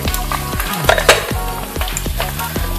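Brinjal, carrot, capsicum, drumstick and tomato hissing in hot oil in a frying pan for sambar dal, a dense steady sizzle with stirring scrapes running throughout, close and loud with no voices.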